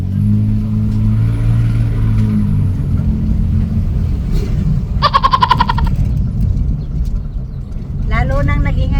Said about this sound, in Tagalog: Lalo nang nag-ingay yung sasakyan.